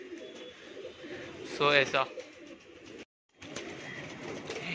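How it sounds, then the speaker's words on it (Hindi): Pigeons coo quietly in a home loft in Mumbai, soft low calls in the background while someone speaks briefly over them, with a short gap of silence partway through. "ये देखो ये ब्लैक एंड वाइट कबूतर भी बहुत सही कबूतर है।"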